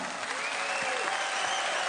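A snooker crowd at the European Masters applauds Ronnie O'Sullivan, a dense, steady burst of clapping that fills the short moment without a break.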